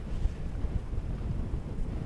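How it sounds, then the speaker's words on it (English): Strong wind on the summit of Cairn Bannoch buffets the microphone in a continuous low rumble, loud and close, with no other sounds. "It's a little bit windy."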